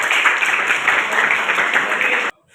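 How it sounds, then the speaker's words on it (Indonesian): Classroom audience applauding two students: a dense, steady burst of many hands clapping that runs for about two seconds and then cuts off abruptly into near silence. "Coba tepuk tangan dulu untuk mereka berdua."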